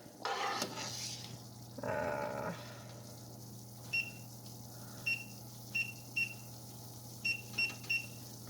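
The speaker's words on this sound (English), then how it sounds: "So I'm going to set the timer." Kitchen timer beeping during grape jelly canning, a series of short, high electronic beeps in pairs and singles with gaps, over a steady low hum of kitchen background after a brief muffled clatter.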